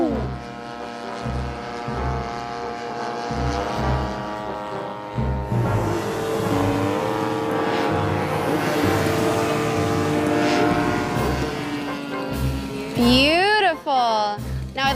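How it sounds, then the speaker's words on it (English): A small radio-controlled model airplane flies overhead, its propeller engine whining and rising and falling in pitch. The engine is loud and continuous, and a voice speaks over it. "After her abbreviated ground school, Sarah is ready to control this miniature flying machine."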